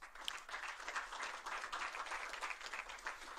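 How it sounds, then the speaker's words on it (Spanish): Audience applause at an electoral forum panel, a steady spread of many hands clapping, moderately distant and quiet, holding evenly throughout. "Un aplauso, por favor."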